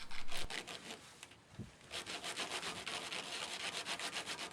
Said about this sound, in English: I'm going to take some water and I'm going to place that on the lowest number of sandpaper